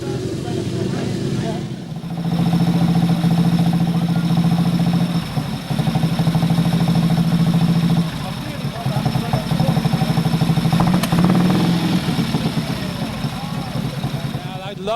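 A Scott twin two-stroke motorcycle engine runs steadily with a buzzing, droning note throughout, swelling slightly at moments, with a voice talking over it.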